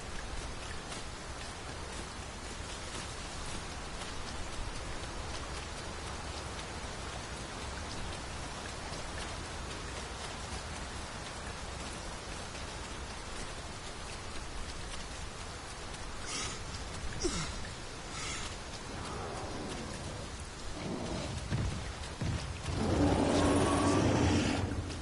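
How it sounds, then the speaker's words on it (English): Steady rain in the video game Dragon's Dogma 2, a continuous hiss of falling drops on surfaces, with a few sharper rustling bursts and a louder swell near the end. "Rain can be treacherous."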